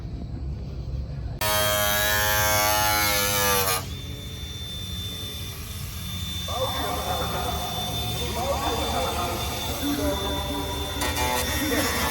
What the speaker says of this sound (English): this is really cool because it's got the electric AC compressor